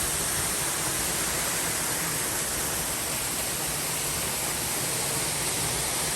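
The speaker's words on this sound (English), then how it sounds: "Got this beautiful little waterfall." A small waterfall on a forest trail in Angeles National Forest pours in a steady, dense rush of falling water that fills the whole clip, close and constant with no talk over it.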